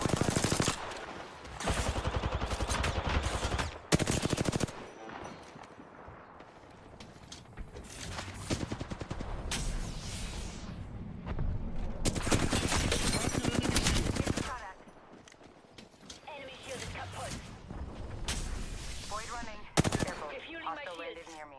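Battlefield 6 gunfire: rapid automatic bursts and sharp shots sounding in long stretches amid busy game noise, with brief quieter gaps between the firefights.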